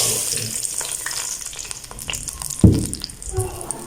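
Sugar hits hot ghee in a pan for sweet mutanjan rice, giving a steady close sizzle with a sharp louder burst midway and scraping stir strokes, no talking.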